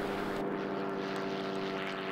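Drone aircraft with a rear pusher propeller engine flying past, a loud steady droning buzz with a strong sustained tone, continuous throughout with no voices.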